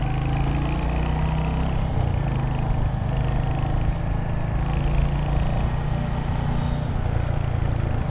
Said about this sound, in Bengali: বাইকটা চালানোর সময় খুব সুন্দর একটা সাউন্ড আমার কানে আসতেছে